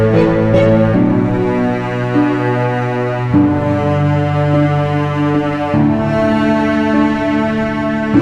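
Albion low strings patch on its long articulation, played in Logic Pro X: sustained deep string chords that swell and change every few seconds, full and resonant, with no talking.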